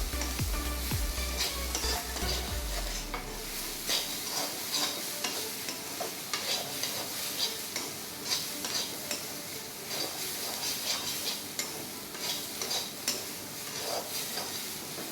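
Ingredients for chicken biryani masala sauté in a pan, with a steady soft sizzle and repeated scraping stirs ticking along throughout, close and fairly quiet with no talking.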